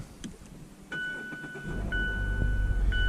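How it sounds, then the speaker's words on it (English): 2020 Mazda 6 Sport engine starting: a soft chime tone, then the starter catches and the engine settles into a steady low idle, heard close from inside the cabin. "Vehicle fires right up."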